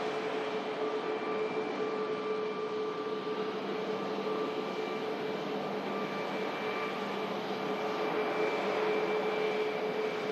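Turkish Airlines Boeing 737 Max airliner at Manchester Airport, making its first visit; a steady, distant roar of jet engines hangs over a continuous broad wash with faint tonal hums, holding level throughout with no talk.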